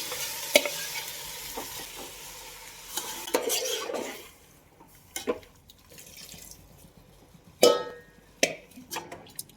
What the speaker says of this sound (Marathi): आता हे चिकन घालतात ह्याच्यात.